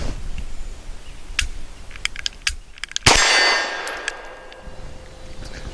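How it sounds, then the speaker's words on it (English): A Springfield Armory XDe pistol gives several light dry clicks when a round fails to fire, then one sharp, loud report with a ringing decay on the next pull, followed by a few faint metallic ticks. "What you just saw there, round didn't go off. I pulled again, and then it did go off."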